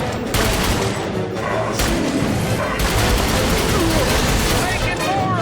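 Explosives detonate and gunfire rattles during a firefight in the video game The Bureau: XCOM Declassified, a loud, dense barrage of booms and rapid shots with voices calling out over it.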